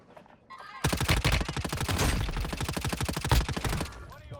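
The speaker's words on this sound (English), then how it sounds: "I was trying to shoot him with an HRM, bro, at that distance." Rapid automatic gunfire from an HRM weapon in the video game Warzone Mobile, a dense burst of closely spaced shots lasting about three seconds, loud and near, with no talk over it.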